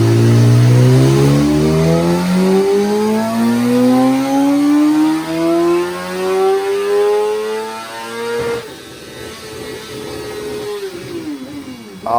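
A Suzuki Hayabusa's high-performance inline four-cylinder screams on a dyno, pitch climbing steadily through a long loud rev run for about eight seconds before dropping sharply and winding down, close and alone.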